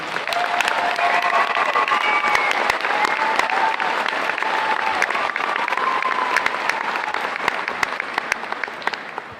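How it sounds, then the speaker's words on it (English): An audience at a high school commencement ceremony applauds the graduating seniors: loud, continuous clapping with sharp individual claps standing out and faint cheering mixed in, running steadily to the end. "Audience, let's give them one more round of applause."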